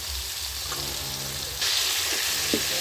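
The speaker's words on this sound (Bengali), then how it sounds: "ওই তেলের মধ্যে ফুলকপি আর আমি আলুটা ভেজে নিচ্ছি" Steady oil sizzle with a broadband hiss that grows louder partway through, plus a couple of faint clinks; no voices.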